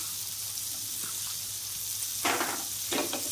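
Fig chutney with raisins, mango leather and dates being gently stirred in a pan, a steady low sizzle running throughout with two short, soft scraping strokes near the end.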